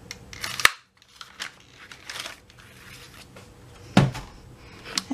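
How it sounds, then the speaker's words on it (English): Scissors cutting and a punch going through a bag for a junk journal, giving close, sharp snips and clacks with softer crinkling between them and no talking. "So I'm going to cut this, punch this semicircle out here."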